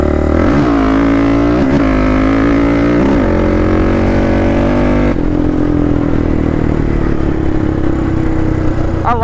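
A quad ATV engine, Yamaha Raptor 686 or Predator 560, roars loud and close, revving in rising and falling pulses during the first half before settling into a steady, hard-pulling drone.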